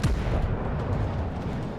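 Heavy naval gunfire from the battleship Fuso in a warship video game, a deep booming blast at the start followed by a long rumbling roll that fades slowly, loud and close with no talking.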